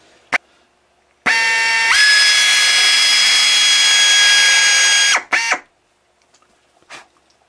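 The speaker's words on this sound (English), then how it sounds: "So let me drill this hole." A small drill bores into a laminated woodturning blank, a loud steady whine lasting about four seconds that steps up in pitch once, then a couple of brief bursts as it stops, with quiet clicks before and after.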